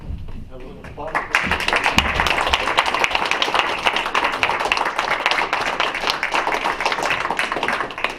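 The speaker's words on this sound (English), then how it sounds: "If he'd come forward, have a little applause." Audience applause at a city council meeting honoring a young athlete: after a quiet start with a murmuring voice, dense clapping swells and continues steadily, fairly close and lively.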